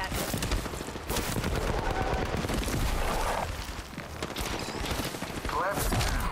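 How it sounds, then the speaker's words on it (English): Rapid gunfire and automatic weapon bursts fill an online shooter video game firefight, loud and near-continuous across the whole stretch with dense, crackling volleys and no pauses. "I am taking fire."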